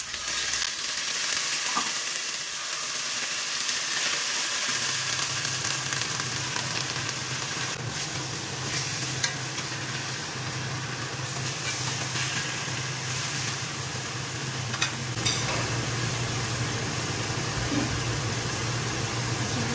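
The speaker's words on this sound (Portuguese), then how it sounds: "Vamos selar esse frango." Pieces of chicken sear in olive oil in a hot pan, giving a steady, dense sizzle that crackles close by for the whole stretch. A low background hum runs underneath, and no one speaks.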